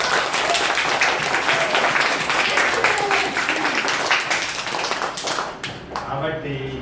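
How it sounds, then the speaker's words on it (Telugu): Schoolchildren in a primary class clap after a puppet story, producing a busy, sustained patter of many hands that thins and stops near the end. "అయితే చప్పట్లు కొట్టండి."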